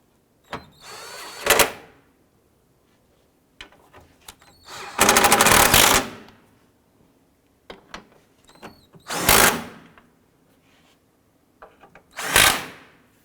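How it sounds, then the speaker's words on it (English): Power tool tightening bolts while fitting fog lights on a 2004-2009 Dodge Durango, heard as several short, loud whirring bursts close by, separated by pauses with faint handling clatter. "I'm going to go ahead and snug these bolts down."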